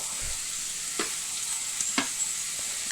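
Spring onion greens frying with garlic in a pan, a soft steady sizzle with a few sharp spatula scrapes and clinks as they are stirred, no talking.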